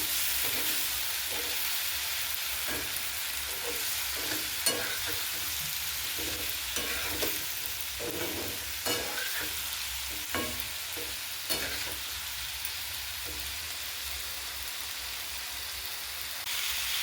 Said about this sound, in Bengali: একটু জল দিয়ে কষে নিচ্ছি।